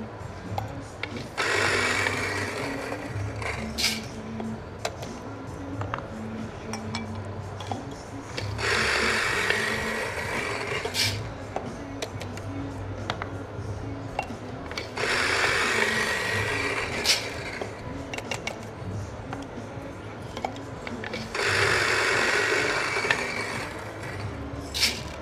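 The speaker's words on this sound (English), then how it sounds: "I'm going to go ahead and grind all of my coffee right now" A coffee grinder grinds beans at a world barista championship final, loud whirring bursts of several seconds repeating in four runs over a low mechanical drone and ambient room noise.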